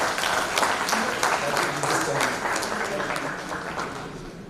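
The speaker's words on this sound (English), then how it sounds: "big applause to him for this." An engineering conference audience claps steadily in a dense wash of applause that fades slightly toward the end.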